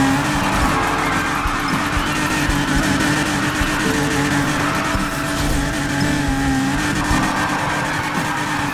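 A Nissan 370Z drifts and spins out in the racing game NFS Heat, its engine droning loud and steady under long tire squeals and skids, with no voices over it.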